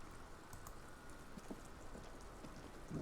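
Soft, steady rainfall pattering in the video game Disco Elysium, a faint continuous hiss with scattered drop ticks and no voices.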